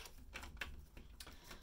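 Tarot cards being shuffled: soft, quick papery clicks and riffles in short bursts, quiet and close, with no talking.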